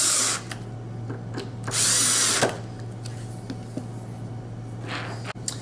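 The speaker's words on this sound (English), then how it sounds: "put in my pan head screws with the washers. I'm going to lightly tighten those down." A power drill drives pan head screws with washers into sliding-door brackets in short bursts, with two loud whirring runs and a fainter one near the end. Clicks and quiet handling noises fall between them.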